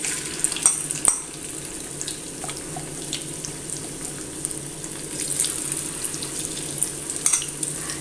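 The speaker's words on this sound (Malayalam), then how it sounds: "രണ്ട് പ്രാവശ്യമോ മൂന്ന് പ്രാവശ്യമൊക്കെ ആയിട്ട് നമുക്ക് ഇതിങ്ങനെ വറുത്തെടുക്കാം" Chicken pakoda frying in hot oil, a further batch: a steady crackling sizzle throughout with occasional light clinks of a utensil, close and even, no talk.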